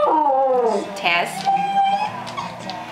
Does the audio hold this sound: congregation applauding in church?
no